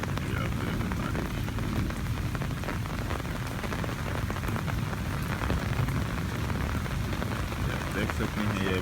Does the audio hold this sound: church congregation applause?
no